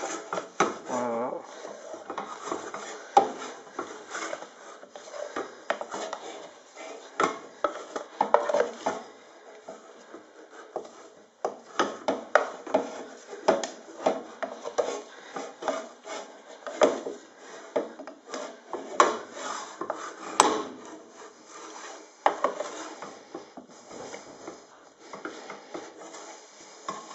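Hot homemade solid soap being worked and kneaded in a pot, heard as steady rubbing, scraping and soft knocks against the pot with an irregular rhythm, close and fairly quiet.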